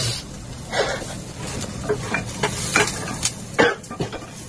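Onion frying in a hot pan crackles and spits, with uneven bursts of splattering and stirring over a steady background sizzle, close and fairly loud, with no one talking.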